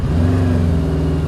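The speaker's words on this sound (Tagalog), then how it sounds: "Start natin yung makina." A Benda Dark Flag 500 motorcycle engine running just after starting, a loud close steady low rumble with firm harmonic drone throughout.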